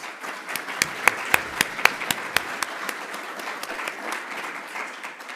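Audience applause after a technology conference panel: a few sharp, distinct claps stand out near the start over a softer field of clapping, which then fades to a lighter patter.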